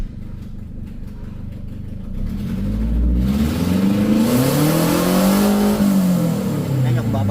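A car engine, a unit with a clogged catalytic converter that will not rev past 3000 RPM, idles roughly and then is revved, its pitch rising and falling in a slow sweep, loud and close.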